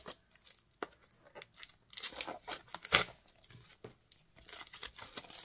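Plastic wrap is peeled off a notebook up close: intermittent rustling and crinkling with a sharp tearing burst midway, then more soft handling.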